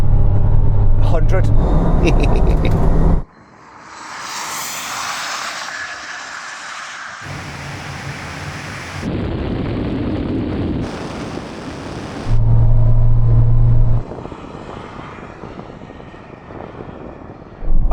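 A BMW i7 electric car in a drag race rushes past with a loud, sustained whooshing roar that swells and cuts off in blocks, heavy wind noise over it, and someone talking.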